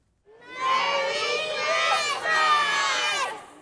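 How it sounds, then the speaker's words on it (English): A crowd of excited youngsters waiting to meet Father Christmas at a Santa's grotto in County Mall, Crawley, a loud, close mass of high shouting and cheering children's voices that carries on without a break. "A crowd of youngsters ready to meet Father Christmas."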